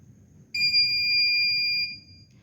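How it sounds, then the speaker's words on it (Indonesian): A buzzer in a smart farm bird-detection system sounds one steady high electronic tone for about a second and a half, clear and loud over a quiet low hum. "buzzer ini akan berbunyi"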